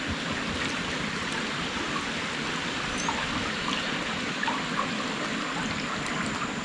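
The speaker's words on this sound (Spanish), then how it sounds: "Mirá, no, es un río esto." A small stream swollen by heavy rain runs through rainforest in Amapá, Brazil, a steady close rush and trickle of water throughout, with a brief spoken remark over it.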